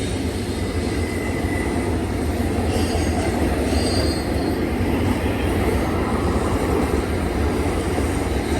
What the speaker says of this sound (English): It's actually switching from 2 to 1. It's cutting in front of this port stack train.